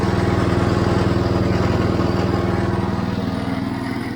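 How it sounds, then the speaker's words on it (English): An International Harvester Cub Cadet 149 lawn tractor's 14-horsepower engine runs steadily up close, its loud chugging putter holding an even rhythm before easing slightly toward the end. "it's got a 14 horsepower engine in it."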